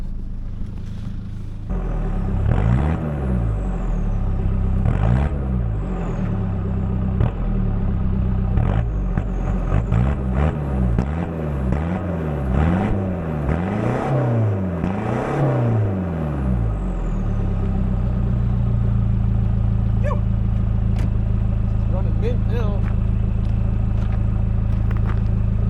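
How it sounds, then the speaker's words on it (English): Car exhaust idling with a deep burble, then a series of sharp revs rising and falling in quick succession, close and loud, before settling back to a steady idle drone. "I'm just gonna quickly bless you guys with one little exhaust clip, because I think this thing actually sounds pretty sick"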